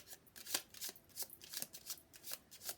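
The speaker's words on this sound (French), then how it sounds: "Donc, on va mélanger. C'est très difficile à les mélanger," Small oracle cards are shuffled by hand in quick soft riffles and swishes, a repeated papery rhythm, close and quiet with no talk.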